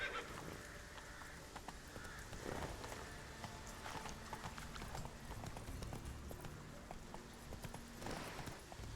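Horse hooves clip-clop in The Witcher 3, a faint, fairly steady trotting rhythm under a busy game soundscape with occasional honking bird calls and a low background bed.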